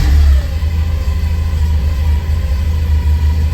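A Porsche 944 engine runs at a steady idle, a deep continuous low rumble close by, slightly louder at the very start, with no speech over it.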